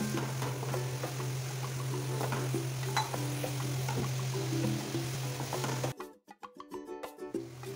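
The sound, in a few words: onion cooking in a pan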